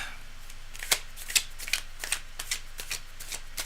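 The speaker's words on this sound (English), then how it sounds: "I'm just clearing the deck here right now." Tarot cards being handled and cleared from a deck, a quiet run of crisp riffling and slapping bursts spaced irregularly, close and alone with no talk.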